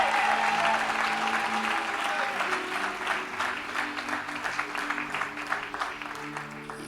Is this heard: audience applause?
yes